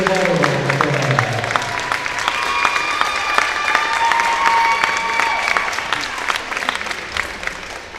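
Steady applause from a large crowd at a college volleyball match fills the space, dense clapping with a few scattered cheers, loud and sustained throughout.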